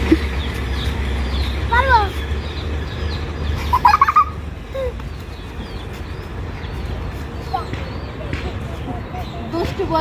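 Chickens tethered on a house rooftop give short, intermittent clucks mixed with other bird calls, while people talk nearby over a low outdoor rumble.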